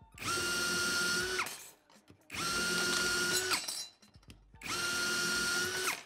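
A Prosnip sheet metal cutter slicing through steel plate, heard in three loud, sustained bursts of grinding, whining power-tool noise of about one and a half seconds each, separated by short pauses with faint mechanical clicks.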